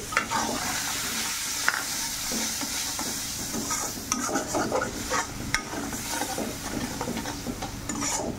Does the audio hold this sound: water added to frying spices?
yes